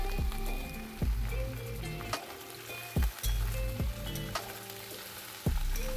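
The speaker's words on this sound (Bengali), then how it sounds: "আলু আর গাজরটাকে ভেজে নিলাম ভালোভাবে" Potatoes and carrots frying in oil in a pan, a continuous close sizzle with occasional stirring knocks and scrapes, moderately loud and without talk.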